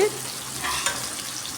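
Tomatoes with salt sautéing in a pan, a steady close sizzle of frying with light stirring scrapes running through the short stretch.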